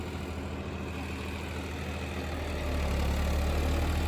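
A John Deere 5405 tractor engine runs with an 8-foot rotavator, a steady low mechanical drone that swells slightly louder partway through, heard alone with no voices.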